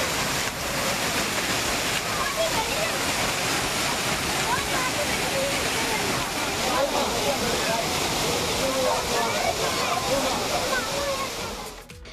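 Agasthiyar waterfall crowded with bathing families, a steady broad roar of falling water with splashing and faint mixed crowd voices throughout.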